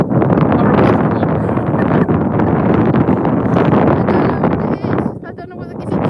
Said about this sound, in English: Yeah, it is windy, I'll show you.